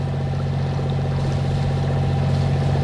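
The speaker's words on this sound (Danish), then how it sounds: "Så tøffer vi lige så stille afsted igen for motor inde i Blekinge Skærgård" Sailboat motoring slowly under engine power through the Blekinge archipelago, a steady loud low diesel drone with rhythmic throb and constant hull and water noise throughout.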